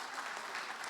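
Brief burst of congregational clapping inside a church during a testimony service, a dense, steady patter of many hands with no speech.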